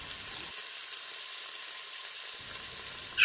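Tomato paste roasting in a pan for a Bavarian beef pot roast, a soft steady sizzle with a hiss running evenly throughout, moderately quiet and without voices.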